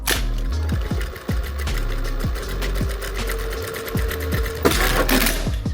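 A sewing machine stitches bias tape onto a bubble skirt in steady runs of rapid mechanical needle chatter, pausing briefly between bursts and ending in a brighter rattle, close and loud with no talking.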